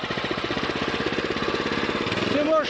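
A vehicle engine run at full speed on a rough country road, a loud rapid pulsing chug with a mechanical knock, steady and close, rising slightly at the end.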